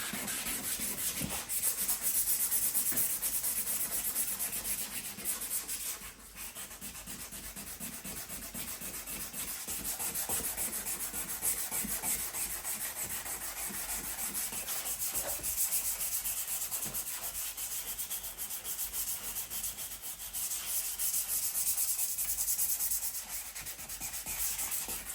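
Steady, continuous sanding of a scratched car headlight lens with a headlight restoring kit, a close, even rubbing hiss that barely pauses for about twenty-five seconds, with no talking.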